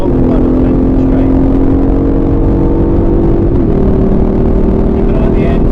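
An Aston Martin Vantage engine pulls hard under load as the car accelerates onto the straight at Silverstone. The engine drones loud and steady, its pitch rising and then stepping at about 3.5 seconds, with wind and road roar underneath.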